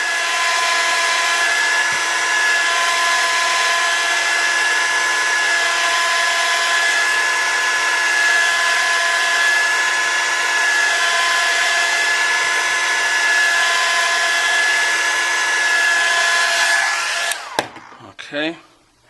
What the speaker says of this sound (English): Add heat